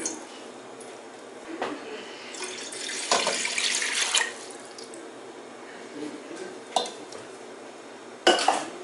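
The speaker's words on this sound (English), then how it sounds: "Now we can continue with this and add 4 cups of water into this" Water added to a soup pot on a kitchen stove, running and splashing for a few seconds between clanks and knocks of the pot and utensils, close and moderately loud.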